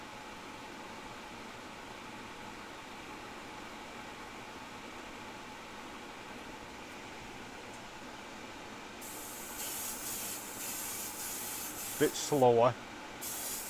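A Timbertech paint airbrush lays down a final wet coat, a soft, steady hiss that grows louder partway through. A voice speaks briefly near the end.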